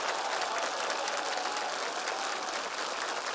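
Judges giving a standing ovation after a singer's performance on a Ukrainian televised talent show, a continuous, even wash of clapping heard at moderate distance without talk over it.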